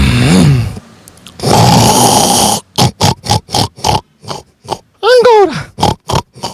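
A man imitates a pig with loud, close-up snorting grunts, then a quick run of short rhythmic oinks and a squealing call, with pauses between.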